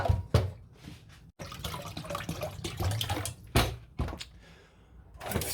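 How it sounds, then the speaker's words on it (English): Old water is poured from a saucepan into a sink in a home kitchen, heard as splashing bursts of water that start and stop several times, close by, with no talking. "Pour the old water away."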